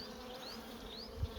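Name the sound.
honeybees buzzing around a hive box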